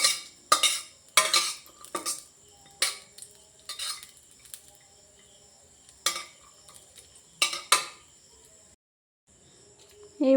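Cashew nuts lightly frying in melted ghee in a wok, stirred with a utensil that clinks and scrapes against the pan in short irregular bursts separated by quiet gaps.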